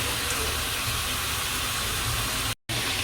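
Water boiling in a pan of bamboo shoot curry gives a steady, close hiss and bubbling rumble throughout, broken only by one brief dropout near the end.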